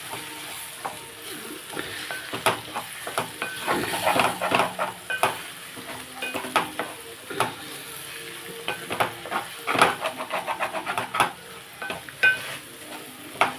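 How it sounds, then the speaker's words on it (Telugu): A spoon stirs a sizzling pan of curry mixed with cumin powder, coriander and salt, scraping and clinking in irregular close strokes over a steady frying hiss. "జీరా పౌడర్, కొంచెం ఉప్పు మనం ఇప్పుడు ఇవి కలిపేసుకున్నాం"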